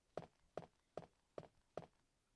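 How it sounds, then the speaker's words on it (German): Five quick, evenly spaced footsteps from the video game Resident Evil 2, firm rather than squelchy, each a soft thud with a short scuff. The steps are fairly quiet against a near-silent background. "Die Schritte klangen auch relativ schnell, also war es höchstwahrscheinlich kein Zombie."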